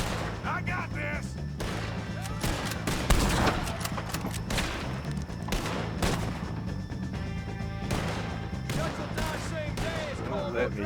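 Gunfire in the Red Dead Redemption 2 video game: irregular cracks and bursts of shots, one heavy blast near the three-second mark, over a steady low game soundtrack, with people talking throughout.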